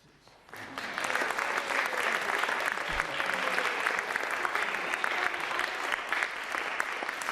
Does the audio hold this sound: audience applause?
yes